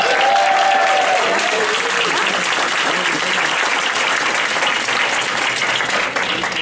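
Audience applause at an Eastside candidates event with Manka Dhingra, JinYoung Englund and Patty Kuderer, a steady wash of clapping that fills the room evenly from start to finish, loud and sustained without any talking over it.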